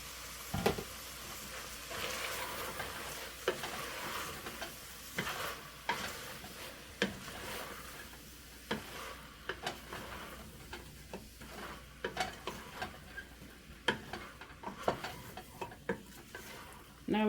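Onions cooking in a pan for chicken noodles with vegetables, a soft steady sizzle broken by repeated sharp clicks and scrapes of stirring and utensils against the pan, fairly close and moderately quiet.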